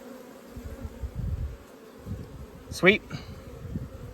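Honey bees buzz around an open hive during a hot, dry day of beekeeping, a soft, continuous drone close by with one brief louder pass, while a person speaks quietly nearby.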